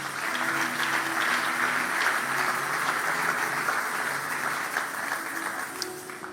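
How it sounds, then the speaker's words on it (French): A church congregation applauds continuously, a dense steady wash of clapping that fills the space at even loudness from start to finish, with no voices rising above it. "On acclame pour le Seigneur."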